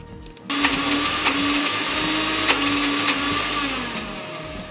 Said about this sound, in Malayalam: ഇനി നമ്മുടെ മസാല നമുക്ക് മിക്സിയിലിട്ട് നന്നായിട്ട് അരച്ച് പേസ്റ്റ് ആക്കാം